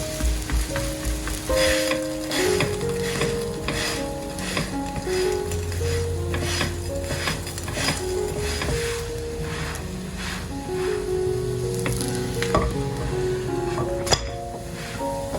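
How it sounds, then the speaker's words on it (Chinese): Glutinous rice cakes sprinkled with white sesame sizzle steadily in a pan over low heat the whole time, a soft continuous frying hiss with occasional light clinks and faint music underneath. "全程開啟小火慢慢煎"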